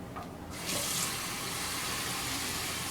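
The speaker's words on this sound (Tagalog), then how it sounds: "Aris, isara mo kaya yung gripo." Tap water gushes from a faucet into a sink while a sponge and tumbler are washed, starting after a brief moment and then running as a steady, loud, close rush.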